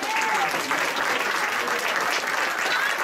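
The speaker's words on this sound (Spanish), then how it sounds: "Dale un fuerte aplauso al Señor." A church congregation applauds at length, a dense, steady roar of clapping filling the whole clip without a break.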